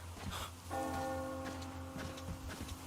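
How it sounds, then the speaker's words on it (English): A church bell tolls once in the video game Metro Exodus, with a long ringing hum over steady rain, under a low drone. "Do you hear that bell?"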